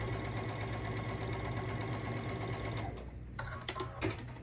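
A sewing machine stitches a seam across quilt fabric, a steady close-up mechanical whir with a fast regular needle rhythm that runs continuously, then slows and stops near the end, followed by a few light clicks.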